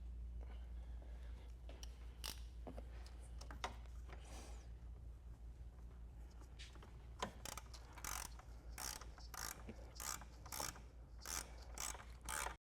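A ratchet with a T30 Torx bit removing the coolant reservoir bolts on a first-generation Porsche Macan S, quick runs of close, crisp clicking bursts with short pauses between strokes, getting busier toward the end.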